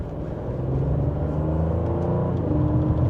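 A 2025 Audi S6 engine in dynamic mode accelerates with a steady, low, moderate rumble heard from inside the cabin, building gently over a few seconds.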